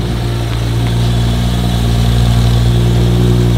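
A car engine idles loudly and steadily with a deep, throaty exhaust rumble, close by and unchanging throughout.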